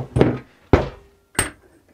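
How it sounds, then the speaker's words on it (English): Three sharp, loud metallic strikes of a hammer on metal while replacing bandsaw motor bearings, spaced about half a second apart, each with a bright clang that rings briefly before fading. "but I'm gonna use a hammer"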